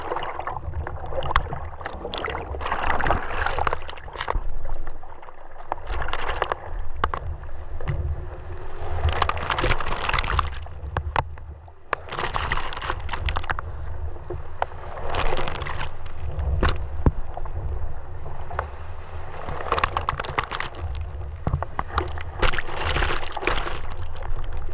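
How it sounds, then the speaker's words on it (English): Water sloshes and surges continuously around a surfboard-mounted GoPro while surfing an ocean wave, with repeated loud rushing bursts of churning surf, close to the camera, and no talk. "So I'm kind of surfing with these guys, and I caught this epic wave."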